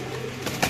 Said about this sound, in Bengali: 21 নাম্বার খাঁচার কবুতরটা